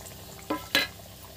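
Fish cutlets go into hot oil two at a time, giving a faint low bubbling followed by two quick, bright splashing sizzles close by, then quieter frying.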